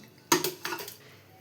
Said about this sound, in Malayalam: ആദ്യം നമുക്ക് മട്ടൻ കുക്കറിലോട്ട് ഇട്ട് കൊടുക്കാം.